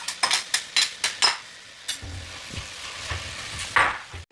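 Large onions and small shallots fry in a hot pan, with a quick run of sharp, rhythmic stirring clatters up close, then a quieter, steady sizzle with occasional utensil knocks.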